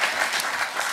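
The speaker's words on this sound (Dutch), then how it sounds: "Ja, applaus, dames en heren" A studio audience claps at a Dutch entertainment show, a brief dense patter of many hands at moderate loudness with no voice on top.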